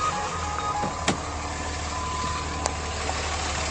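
A 5.9-litre engine in a Ram pickup truck runs at a steady, even idle, a continuous low rumble close by with a couple of faint clicks, no voices.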